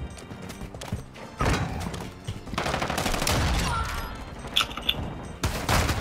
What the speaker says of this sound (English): Here come the shotguns.